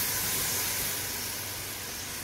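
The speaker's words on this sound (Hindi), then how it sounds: "नमक डालकर अब हम इसको लो टू मीडियम फ्लेम पर 2 से 3 मिनट के लिए फ्राई कर लेंगे" Mutton paya frying with salt over a low-medium flame, a steady broad hiss of sizzling throughout, even and moderately loud, no voices.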